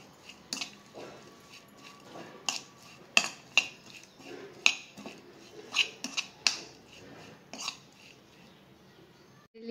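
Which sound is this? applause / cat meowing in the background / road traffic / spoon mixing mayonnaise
spoon mixing mayonnaise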